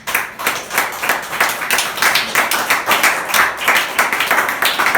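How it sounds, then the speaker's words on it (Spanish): A church congregation claps together in a loud, rhythmic unison beat, steady and close, with no talking over it. "Denle un aplauso a Jesús"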